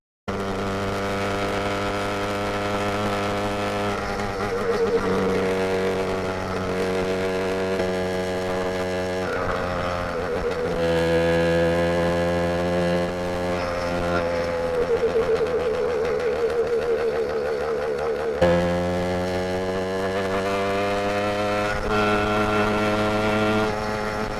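A 100cc motorized bicycle engine drones steadily while riding, a buzzy harmonic hum that rises and falls in pitch with throttle changes, loud and close throughout with wind noise.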